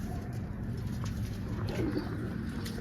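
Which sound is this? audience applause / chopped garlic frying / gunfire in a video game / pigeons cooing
pigeons cooing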